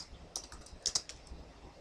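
A few light keystrokes tap on a computer keyboard while a macro name is typed in Excel VBA, sparse and close, with quiet gaps and no talk.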